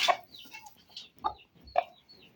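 A bantam rooster kept with young chicks gives a short crowing call followed by clucking chicken sounds, in a series of brief, moderately close calls.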